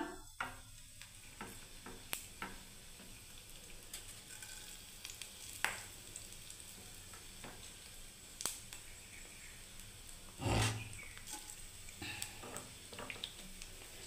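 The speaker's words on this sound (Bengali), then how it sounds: "দেখুন আমি তেল গরম করতে দিয়েছি বন্ধুরা। এখানে প্রথমে বন্ধুরা আমি দেখুন গোটা জিরে দিয়ে দিলাম।" Whole cumin seeds sizzle in hot oil with a steady soft frying hiss, dotted by small crackles and pops and a louder clatter near the end, with no talking.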